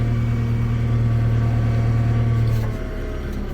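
A Kubota L6060 tractor in four-wheel drive backs up with a steady, loud, low engine drone that drops in pitch and level near the end.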